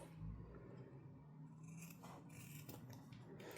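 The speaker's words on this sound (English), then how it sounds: "Now, the same as we did before, I'm going to cut the corners, being careful not to cut my stitches." Scissors snip the corners of a sewn fabric bag near the stitching, giving a few short, quiet cuts over a low background hum, with no voices.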